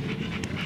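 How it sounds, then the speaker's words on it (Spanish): American Bully pocket dog panting close by, quick rhythmic breaths at a steady pace, soft and near with no talking. "Tenemos este ejemplar que es un Bully Pocket"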